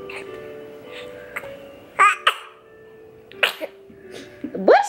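A baby babbles and coos up close, and a small, quick baby sneeze breaks in partway through.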